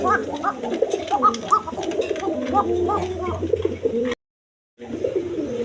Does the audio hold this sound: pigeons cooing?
yes